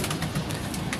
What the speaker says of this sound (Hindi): वो पकड़े हैं कबूतर।